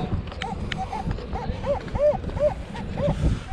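A new metal detector gives repeated short warbling target tones, about eight chirps rising and falling in pitch, moderately loud over outdoor rustling and handling noise.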